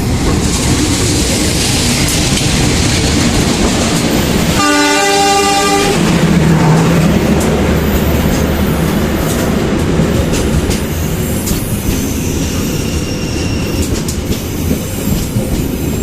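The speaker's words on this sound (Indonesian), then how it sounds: "kita tunggu nih kereta api Pandalungan akan masuk di stasiun Tanggul ya teman-teman" Pandalungan passenger train arriving at Tanggul station in Indonesia, with a loud, sustained rumble and wheel noise and a clear multi-tone horn blast of about a second and a half partway through, heard close to the track.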